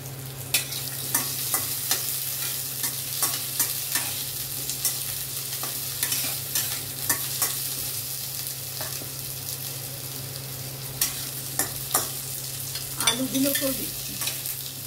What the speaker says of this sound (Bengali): জিরে ফোড়ন দিচ্ছি।